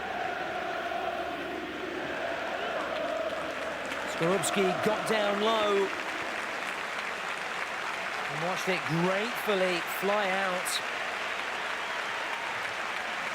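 Crowd of home fans at a Bologna versus Napoli Serie A football match, a steady roar of chanting and applause in a large stadium running under a commentator's voice throughout.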